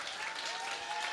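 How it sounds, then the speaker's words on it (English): A church congregation applauds its minister emeritus at an evening service, a steady, dense wash of many hands clapping that holds evenly throughout, moderately loud with no talking over it. "I think we ought to applaud her again."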